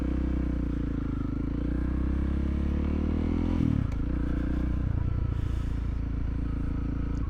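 Honda CRF300L dual-sport motorcycle engine running steadily while riding, a constant close drone that briefly dips and shifts pitch midway before carrying on with added clatter.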